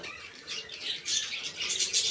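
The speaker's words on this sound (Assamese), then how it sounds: "এইটো দেখিছেনে কি মুৰ্গী কিবা, এইটো এটা চৰাই দেখিছে" A bird on a farm gives a few short, bright squawks in quick succession, moderately close and alone against a quiet outdoor background.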